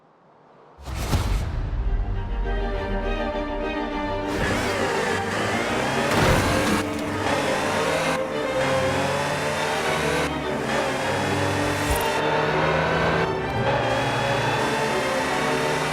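A Land Rover Type 3 in Forza Horizon 4 starts up suddenly after a quiet moment, then its engine revs and pulls through several gear changes, loud and close, with no voices.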